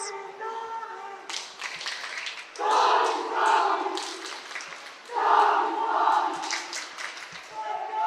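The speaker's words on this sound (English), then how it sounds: "You can hear the cheering." Spectators at a high school boys' swimming meet between rival schools cheer and clap in an echoing pool hall, rising in loud swells, while a commentator talks over the noise.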